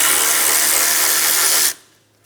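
A power tool whirs loudly and steadily as it backs a 10mm bolt out of the radiator support bracket on a 2007-2012 Nissan Altima, then cuts off abruptly near the end.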